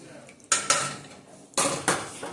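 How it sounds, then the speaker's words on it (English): Ginger beer with added ginger bug stirred in a container, giving a few short scraping and clinking strokes close up in two brief bursts, with quiet gaps between them. "I'm just going to go ahead and give this a little stir since I put in the ginger bug."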